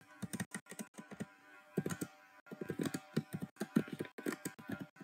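Typing on a computer keyboard during a database lesson on SQL update commands, with bursts of quick, close key clicks separated by short pauses.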